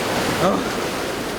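Rough sea waves surge against the rocky cliffs of Cheongdeungdo, a seaweed island, at low tide, producing a continuous loud wash of surf with a faint voice briefly audible underneath.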